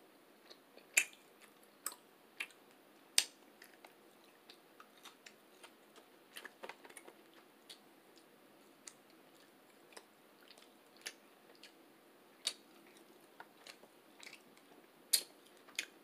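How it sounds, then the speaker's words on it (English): Someone eats a spicy jalapeno at close range, with quiet crunching and wet chewing clicks in an irregular rhythm against near silence. "I'm gonna bite that jalapeno."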